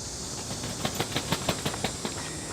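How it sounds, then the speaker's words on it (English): Cicadas sing in trees on a late-summer day at an August bonsai show, a steady high-pitched buzzing drone with a faint rhythmic pulsing underneath, moderately loud and continuous. "You can hear the cicadas singing in the trees."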